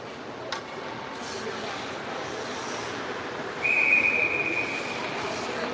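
A referee's whistle at an ice hockey game between Kanata and Ottawa South shrills briefly and fairly faintly over steady arena murmur, a single sustained blast.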